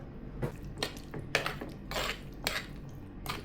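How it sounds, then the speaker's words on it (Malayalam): Lemon pickle with added sugar is stirred in a pot, with soft scraping and a series of light clinks of a utensil against the vessel at an irregular pace, quiet and close. "ഇനി ഇതെല്ലാം കൂടെ ചേർത്ത് നമുക്കൊന്നുകൂടെ ഇളക്കാം"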